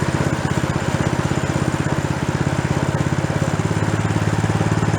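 Small snow blower engine idling steadily, a close, loud, even putter with a fast regular pulse that rises slightly in pitch toward the end.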